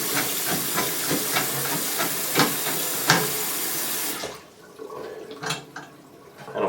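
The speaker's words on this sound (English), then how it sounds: "Water's going down." Water drains noisily down a bathroom sink after unclogging, a loud steady hissing gurgle with a few soft knocks that cuts off abruptly partway through, leaving faint drips and quiet clatter.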